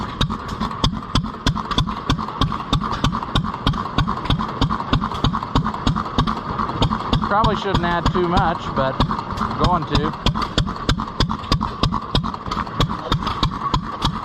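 An antique single-cylinder stationary gas engine, a throttle-governed 1.5 Z, chugs steadily with regular, rhythmic firing beats and a metallic rattle at a county fair engine display, while a person talks nearby.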